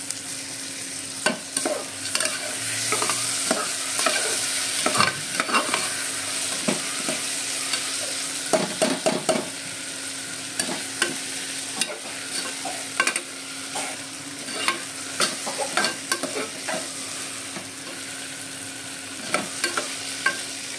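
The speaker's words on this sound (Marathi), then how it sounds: "थोडं सोनेरी चांगलं कळसून अजून घ्यायचं" Ingredients for Khandeshi khichdi fry in a pan until golden while a spoon stirs, giving a constant close sizzle broken by frequent scraping knocks of the utensil against the pan, with no speech.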